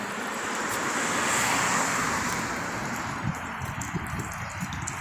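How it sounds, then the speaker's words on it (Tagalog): Cars roll past on a Saudi street, a broad steady traffic roar swelling as one vehicle passes close, then fading into lighter road noise. "Ayan, may mga sasakyan."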